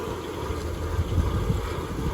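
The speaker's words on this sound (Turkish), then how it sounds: "Sıralara düşüp gidiyor traktör." Tractor pulling a harvester along potato rows during a potato harvest, a steady low engine rumble with wind buffeting the microphone, no talk.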